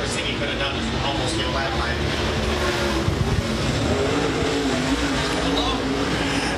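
Super Late Model dirt race car driven by Doug Smith on a qualifying lap at Tazewell Speedway, its engine roaring steadily and loudly throughout, with a commentator talking over it.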